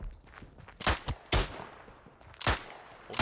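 Rifle gunfire in the World War I shooter Isonzo: a handful of sharp, close shots spaced irregularly, with a couple of near-doubled cracks and a quieter rustling background between them.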